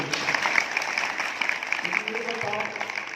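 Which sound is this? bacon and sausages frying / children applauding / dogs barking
children applauding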